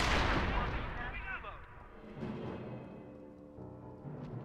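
A loud sniper rifle shot in the Company of Heroes World War II battle at Carentan cracks out at the start and rolls into a long booming decay. Distant battlefield rumble and another muffled blast follow.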